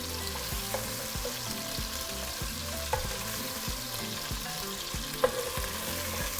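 Meatballs for a noodle soup browning in oil in a pot, giving a steady low sizzle with occasional spatula scrapes and light clinks, moderately quiet and close, with no talking.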